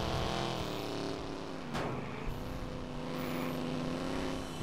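A car driving in the video game Watch Dogs, a steady engine hum with shifting pitch and a sharp bump or impact midway, no talking over it.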